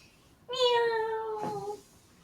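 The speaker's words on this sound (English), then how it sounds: "Mog just wants to meow." Mog, a cat in the video game Hustle Cat, gives one clear drawn-out meow that starts high and slides lower, loud against quiet surroundings.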